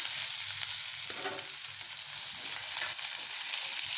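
Cumin, curry leaves, green chilli and chopped onion fry in a pan for egg puff stuffing, giving a steady close sizzle with light stirring scrapes, no voices.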